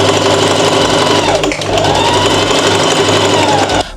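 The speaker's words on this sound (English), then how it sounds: "on the right side of your fabric, you're gonna sew along the edges of this curve." A sewing machine stitches along a curved fabric edge for garment sewing of cargo pants, humming loud and close in one steady, continuous run with a slight dip midway and a stop at the end.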